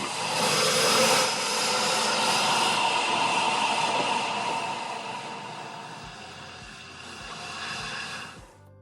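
An alligator's deep, rumbling bellow rolls on for several seconds as a broad, rough roar, loud and sustained and then tapering, with a few soft low thumps near the end and no voices.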